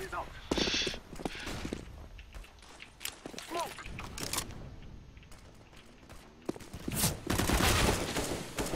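Gunfire and footsteps in the video game Counter-Strike on the Mirage map come as bursts of close shots, with heavy volleys near the end, while players talk over the action.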